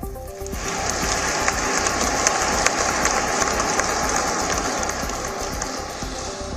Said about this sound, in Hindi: पूरा हॉल तालियों की गड़गड़ाहट से गूंज उठा।